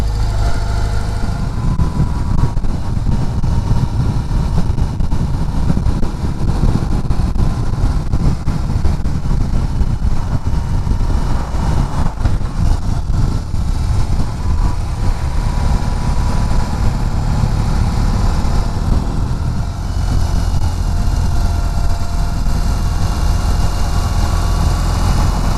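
A BMW R18 First Edition motorcycle engine under way, a steady, loud rumbling drone with wind noise that holds throughout, no voices.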